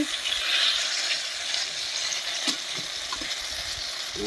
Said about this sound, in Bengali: এই দেখুন, এই বেগুনগুলো ভাজা হয়ে গিয়েছে। বেগুনগুলো এখন তুলতে হবে।